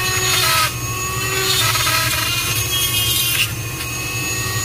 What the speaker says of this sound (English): Pero ngayon, i-wood cutter.